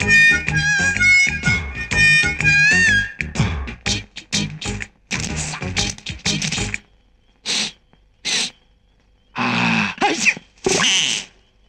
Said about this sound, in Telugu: నేను తుమ్ముతానని చెప్పాను కదా, ఆడు తుమ్ముతున్నాడేంటి?